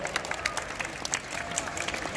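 An audience at the Avenue Carnival in Kuwait breaks into brief, dense applause, many hands clapping together close by with scattered crowd noise.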